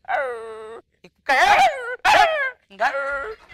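A stage comedy performer imitates a dog vocally, producing four drawn-out whining, howling yelps separated by short pauses, close and clear.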